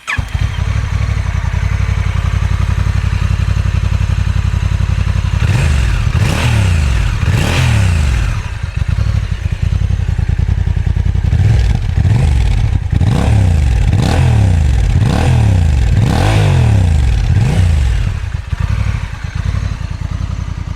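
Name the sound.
Honda NT1100 motorcycle engine sound check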